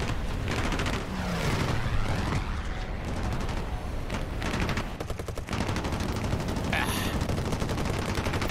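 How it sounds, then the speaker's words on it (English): Rapid bursts of anti-aircraft gunfire from a ZSD63/PG97 SPAA vehicle in War Thunder, repeated volleys rattling loud and close over a dense battle din, with a voice talking at times. "I'll just carry on shooting."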